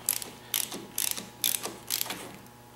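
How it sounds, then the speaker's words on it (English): A brake adjuster mechanism is cranked up by hand, giving a close, clear ratcheting click in steady bursts about every half second, with no talk. "So I'm going to crank it up here for a while."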